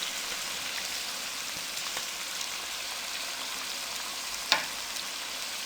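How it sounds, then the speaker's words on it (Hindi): Finely chopped tomatoes fry in a chicken karahi, giving an even, continuous sizzle and crackle close by with one sharp tap near the end, and no voices. "अब इसमें हम बारीक कटे हुए टमाटर डाल देंगे"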